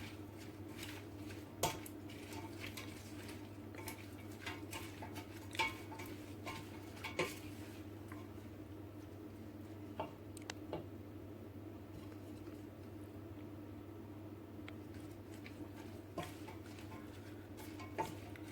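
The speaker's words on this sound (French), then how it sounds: "Donc, je remue." Thai chicken being stirred in a pan, with sparse spoon clinks and scrapes against the pan over a steady low kitchen hum; no one talks.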